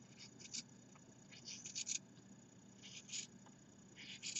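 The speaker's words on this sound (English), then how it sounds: "So I have two layers of fabric, and I will just cut my little petal." Scissors cutting through two folded layers of fabric to shape a rose petal, heard as faint, quiet snips and crisp clipping sounds in a few short bursts over a low background hum.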